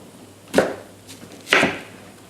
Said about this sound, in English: And then slice it right down the middle.